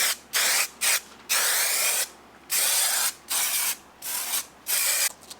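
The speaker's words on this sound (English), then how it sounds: "we tack it in with a little spray spray adhesive that's specially designed for epoxy" Short bursts of hissing spray adhesive, made for epoxy work on carbon fiber rifle stocks, repeat about seven times, each a second or less, loud and close, separated by brief silences.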